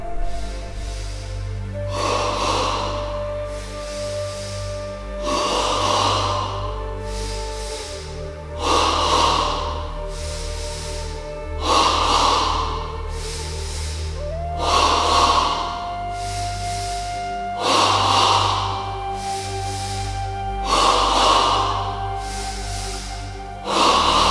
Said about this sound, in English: Ready now for stage 1 of double breathing, 10 times in the abdomen.